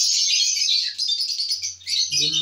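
Pale fallow violet lovebird, home-bred, chirping in a steady stream of close, high tweets with brief pauses, joined near the end by a low hum.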